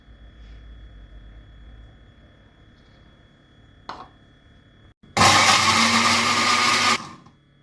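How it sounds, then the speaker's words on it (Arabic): After a quiet stretch and a brief clack, a blender on low speed whirs loudly and steadily for about two seconds, blending garlic, salt, lemon juice, yogurt and egg white, then winds down. "هلا بنشغل الخلاط على سرعة واطية"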